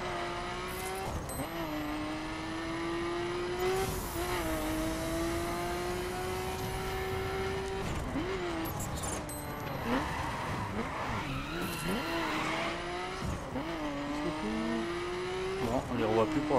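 Arcade racing car engines in The Crew video game, with a steady high revving drone that shifts pitch on gear changes, plus repeated tire skids and squeals through corners and someone talking over the race.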